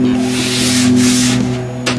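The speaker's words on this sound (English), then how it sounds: "We're just going to take our sanding block and lightly go over the top" A sanding block rubbed lightly and flat across the top of a wooden skimboard gives a continuous, close scratchy rasp, steady for the whole stretch with a brief stroke near the end, alone without talk.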